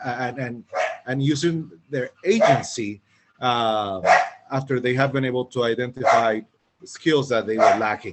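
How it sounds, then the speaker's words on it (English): Several dogs bark in the background, mixed under a person's steady, continuous talking throughout. "I apologize for my dogs."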